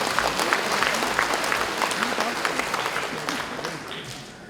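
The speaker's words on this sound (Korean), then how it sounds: "박수 한번 부탁드리겠습니다" A crowd at a Confucian leaders' conference in Korea gives the lecturer a round of applause, dense sustained clapping from many hands, loud and even before easing off, with speech heard through it.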